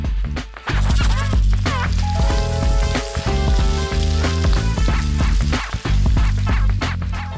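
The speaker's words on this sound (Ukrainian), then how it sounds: "Обсмажуємо їх кілька хвилин у оливковій олії на пательні." Zucchini, leek and eggplant cubes fry in olive oil in a pan, giving a loud, continuous sizzle with scattered clinks and scraping from stirring, and a brief gap near the start.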